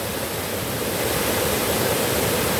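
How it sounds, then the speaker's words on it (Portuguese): Water rushes steadily at the Boi Morto waterfall in Ubajara, a dense continuous roar heard up close with no break. "Olha, escuta o barulho das águas."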